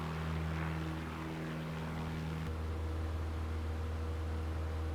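Just Flight PA38T Tomahawk propeller plane droning steadily in flight in MSFS, its engine tone holding level and then dropping in pitch partway through.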